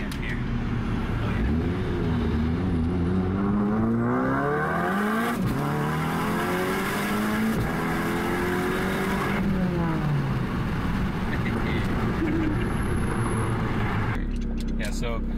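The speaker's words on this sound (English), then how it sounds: "The computer knows exactly when I start to change gears, and it knows exactly when it's in the new gear." A Ford Focus RS accelerates hard through the gears, its engine note climbing in pitch, dropping briefly at each quick upshift and climbing again, loud and steady from inside the car.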